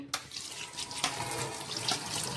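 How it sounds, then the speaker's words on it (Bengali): Tap water runs steadily into a kitchen sink as morala fish are rinsed, with a few sharp clatters and splashes of handling over the continuous flow, close and fairly soft. "এবার আমি ভালোভাবে ধুয়ে নিচ্ছি"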